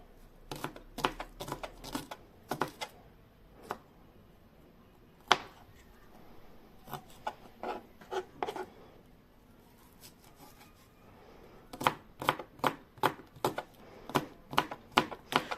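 A small onion chopped with a knife on a cutting board: crisp rapid taps in quick runs, pausing between bursts and ending in a fast flurry of close chops, no talking.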